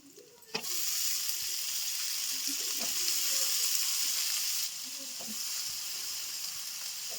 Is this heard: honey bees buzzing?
no